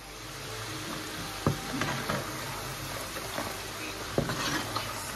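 Cassava fries crackle and sizzle in hot oil as they fry, a dense, continuous bubbling hiss close by with occasional sharper pops and spatters, no one speaking.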